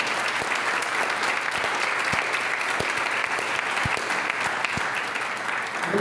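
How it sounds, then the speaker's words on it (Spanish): A church congregation claps together in sustained, even applause, dense and steady throughout with a few sharper individual claps standing out nearby. "Den un aplauso"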